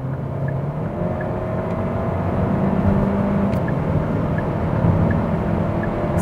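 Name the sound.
Hyundai Sonata 2020 1.6 liter turbo engine accelerating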